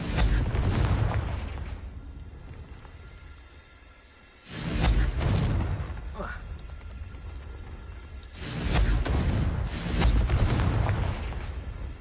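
Confringo fire curse in Hogwarts Legacy, with heavy fiery blasts that boom and then trail off, heard in three main bursts spaced several seconds apart and nothing else in between.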